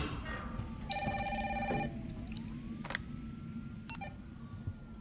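A telephone rings in the zombie survival game Resident Evil 3, with electronic ring tones and beeps over a steady low game ambience and music, fairly quiet.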